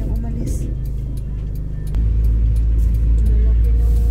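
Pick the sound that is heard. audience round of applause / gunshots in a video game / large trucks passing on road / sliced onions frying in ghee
large trucks passing on road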